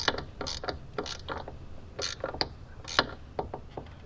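A flexible ratchet wrench tightens the 12V battery terminal on a Tesla Model X, clicking in a steady run of close, crisp ratchet strokes with brief pauses between swings, and no voices.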